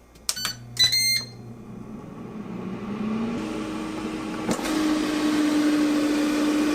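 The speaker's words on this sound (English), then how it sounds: "I've set it to air fry at 375 degrees in 8 minutes." An air fryer runs at 375 degrees with a single layer of frozen mozzarella sticks inside, giving a steady mechanical hum and fan whir that rises slightly partway through, preceded by a few short electronic beeps as it is set.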